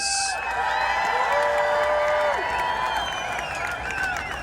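Crowd at a Rhode Island protest rally applauds and cheers for the speakers, a steady wash of clapping and whoops that holds for several seconds at moderate distance.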